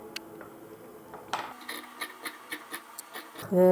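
Scissors cut through blouse fabric in a quiet room, making a series of short, close, evenly spaced snips and rubbing sounds, ending with a brief tonal sound.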